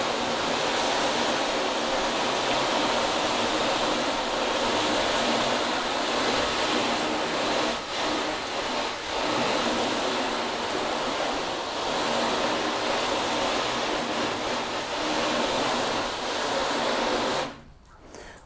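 Steady, loud hiss of water spraying and rinsing over a ceramic-coated car surface, continuous for many seconds before cutting off abruptly near the end.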